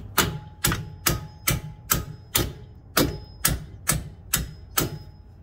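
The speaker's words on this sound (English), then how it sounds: "Now we're going to take a hammer and drive the bolts outwards" Hammer driving ridged locking bolts out of a front wheel bearing on a 2007 Buick Rendezvous, eleven sharp metallic blows in a fairly even rhythm, close and loud with no voices.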